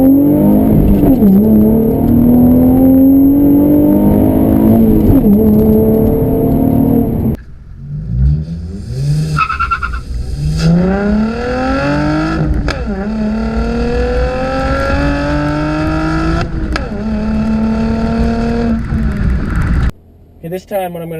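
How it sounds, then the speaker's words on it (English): A 2015 Chevrolet Camaro 1LT with a manual transmission and a dual-mode performance exhaust held open is punched hard. The loud, close engine roar climbs steeply in pitch, breaks off for a gear change and then climbs again through the next gear. "I'm just going to punch it so you can really see. You can really see how it sounds. Just open exhaust."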